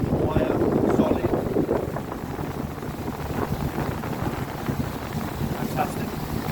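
A Windy 32 Grand Tornado motorboat cruises at about 20 knots and 2,250 RPM, its steady engine drone and water rush mixed with wind buffeting, continuous and close.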